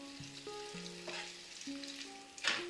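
Beaten eggs are poured into leeks frying in a pan for a leek omelette and stirred, producing a soft, steady sizzle with scraping strokes and a louder splash of frying near the end.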